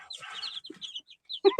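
Chickens in a pen cluck in short, scattered bursts, close and fairly clear against a quiet background, ending with a couple of louder clucks.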